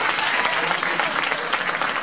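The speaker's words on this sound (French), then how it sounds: "On l'applaudit très très fort s'il vous plaît." Dense, steady applause from a pageant audience at a beauty contest, filling the whole short stretch at an even, fairly loud level with no pauses.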